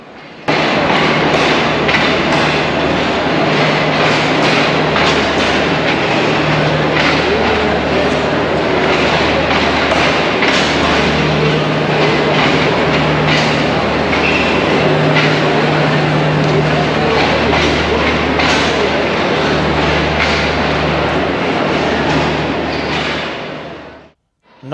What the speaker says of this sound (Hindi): सामने प्लेटफॉर्म नंबर 2 से 6 डाउन ग्रीन लाइन भी कराची के लिए रवाना हो गई